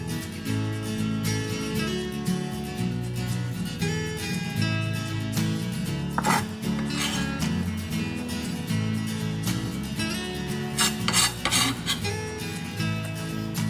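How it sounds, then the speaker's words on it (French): A knife scrapes chopped parsley across a cutting board in repeated sweeping strokes while making a celery-root wrap filling, with close scratchy rasps and occasional light clicks of the blade. "vous allez faire des demi-cercles, des quarts de cercle en raclant à chaque fois le persil qui s'en va"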